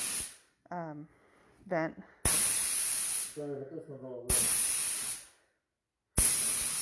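Clear coat sprayed over patina paint on cabinets, heard as three loud hissing aerosol bursts of a second or two each, separated by short silences, with someone speaking briefly between them.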